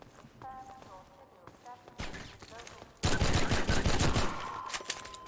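Rapid bursts of 9mm pistol gunfire in Half-Life 2 MMod, loud sharp shots crowding together in the last seconds after quieter game sounds and a voice earlier.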